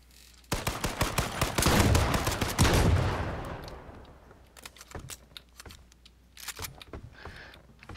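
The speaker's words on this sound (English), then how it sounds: "Should we shoot randomly, see if they come?" Gunfire in the video game H1Z1 battle royale: a dense, loud automatic burst lasting a few seconds, easing into scattered single shots and clicks.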